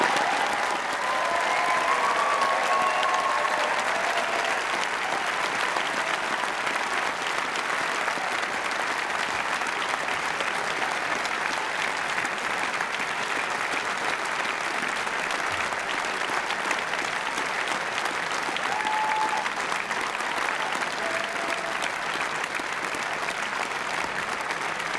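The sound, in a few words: audience applause for graduates at graduation ceremony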